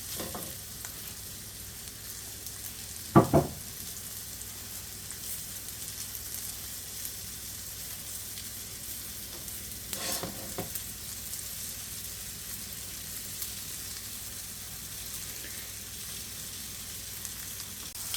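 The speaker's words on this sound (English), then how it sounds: "it's been frying a couple minutes" Quiet, continuous sizzle of Swiss steak frying in a pan, with a couple of brief clanks of a utensil against the pan.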